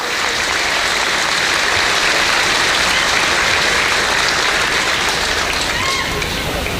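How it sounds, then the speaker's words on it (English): Loud, sustained applause from a crowd after a Gaelic football club final, dense continuous clapping throughout with no pauses. "Round of applause, please."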